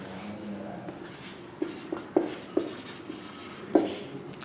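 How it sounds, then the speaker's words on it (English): Writing on a board during a physics class, a series of short tapping strokes and scratches at an uneven pace, close and fairly clear over a quiet room, with no talk. "So please write the properties of the image. Properties of an image. I am writing there."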